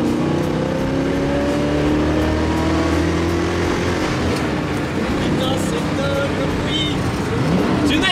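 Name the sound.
Ford Mustang Mach 1 engine accelerating while driving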